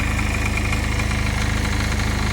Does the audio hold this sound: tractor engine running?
yes